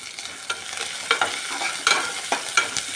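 Ginger garlic paste fries in oil with onion and green chili. A constant sizzle is punctuated by repeated scraping strokes of a spoon stirring the pan.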